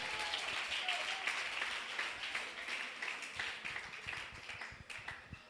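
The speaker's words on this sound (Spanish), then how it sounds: "Denle un aplauso al Rey de Gloria" A church congregation at a Spanish-language service claps in praise to the King of Glory, a sustained moderate patter of many hands with irregular louder claps, heard alone without talk.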